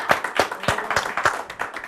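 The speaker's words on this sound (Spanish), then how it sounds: "Un aplauso para él, por favor." An audience applauds a teacher at a university event: steady, fairly dense hand clapping from a group, carrying evenly across the whole stretch with no talk over it.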